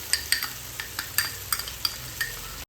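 Onions being stir-fried with a ground ginger, garlic and green chili paste, a soft sizzle broken by repeated sharp scrapes and taps of a spoon against the pan, close and rhythmic.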